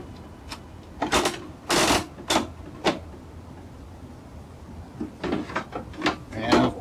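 A quarter goes into a cheap three-head candy vending machine, producing a series of sharp metallic clicks and clunks in uneven bursts, close and fairly loud against a quiet background.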